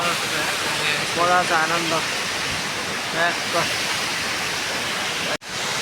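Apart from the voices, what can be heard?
Jalbire waterfall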